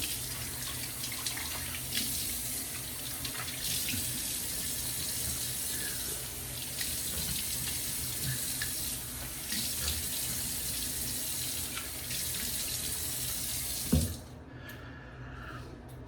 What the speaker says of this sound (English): I'm gonna go ahead and let my water warm up for a second